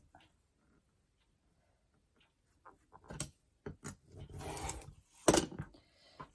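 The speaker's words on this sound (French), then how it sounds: "Donc, je vais découper." Scissors cut through material while a small cardboard suitcase is being fitted out: after a quiet stretch, a series of crisp, close snips and clicks comes in irregular bursts.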